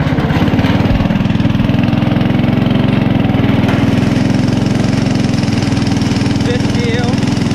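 Engine of a homemade party bus driving in sixth gear with slipping gears, pushing toward top speed. A loud, steady, close chugging drone with a fast regular pulse, holding without letting up.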